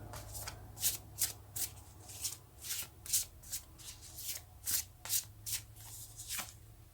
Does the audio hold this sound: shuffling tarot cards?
yes